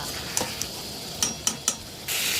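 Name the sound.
stir-frying potatoes with ground spice paste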